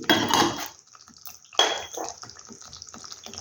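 A spice bowl being rinsed with water: two bursts of splashing and clattering against the bowl, with quieter trickling and light knocks in between.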